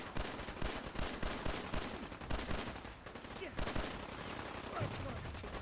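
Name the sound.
gunfire in video game Fallout 4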